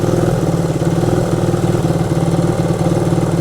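A 1971 Honda CB100 motorcycle with a recently stuck carburetor float runs at idle, a loud, close, steady buzzing putter with even rapid pulses and no voices.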